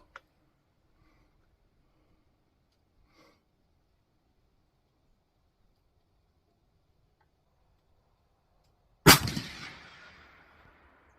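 One sharp, loud rifle shot from a Mossberg Patriot Predator cracks out after several seconds of near silence, its echo trailing off quickly.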